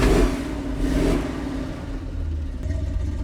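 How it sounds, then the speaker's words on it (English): A monster truck engine with a newly fitted exhaust starts and runs, giving a loud, close low rumble with a revving surge early on before it settles into a steady idle. "let's start it up so you guys can hear what it sounds like with the new exhaust"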